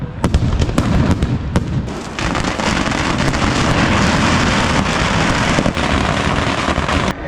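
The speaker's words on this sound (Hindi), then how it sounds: "ये है ये बड़े बड़े बम होते हैं, वो सूतली बम है।" Large sutli bomb firecrackers exploding at a Dussehra Ravan Dahan celebration in Kota, loud sharp blasts in rapid succession at first, then a dense continuous crackling roar of fireworks.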